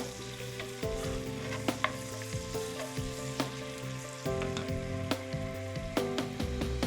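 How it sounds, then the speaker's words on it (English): Ingredients for egusi soup fry in hot palm oil over medium-high heat, giving a close, even sizzle broken by sharp pops and spatters, with no talking. "we're using palm oil, so we're not going to fry it for long"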